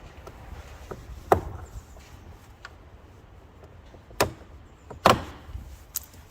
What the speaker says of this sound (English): using a flat trim tool, start in one of the bottom corners of the door card and just put it in and turn it and pop the clips out